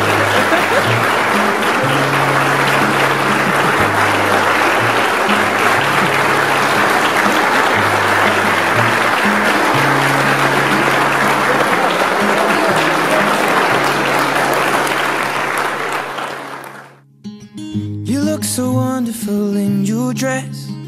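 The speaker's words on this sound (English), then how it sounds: "Let's clap." Loud, dense applause from wedding guests in a ballroom, sustained for about sixteen seconds before cutting off abruptly into music.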